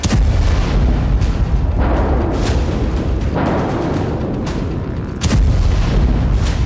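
Explosions from bombing in Gaza, with repeated loud heavy booms and rumbling blasts arriving in quick succession and a sharp, close burst near the end.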